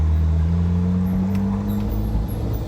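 Rebuilt Ferrari 458 Spider pulling away with the top down, a steady droning engine note rising slightly as the car moves off, heard close from inside the cabin with faint clatter, no talk.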